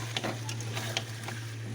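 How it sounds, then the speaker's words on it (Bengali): Meat fries with ground spices in a pan, giving a soft, steady sizzle broken by a few light scraping stirs over a low hum, without talk. "মশলার মাংস একদম ভাজা ভাজা হয়ে গেছে"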